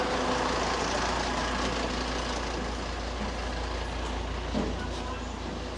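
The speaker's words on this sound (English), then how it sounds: "Be careful walking past this truck here." A truck's engine idles on a street beside a market area in China, a steady low rumble that is loud and close and runs unbroken throughout, with faint background street noise.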